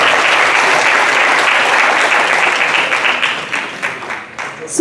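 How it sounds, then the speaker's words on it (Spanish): Audience applause for a guest panelist at a business panel on intrapreneurship, steady and dense from the start, holding loud for several seconds and then thinning out toward the end. "Fuerte el aplauso para él, por favor."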